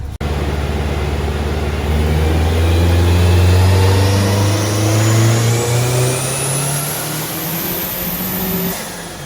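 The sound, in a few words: car engine revving with a new FP green turbo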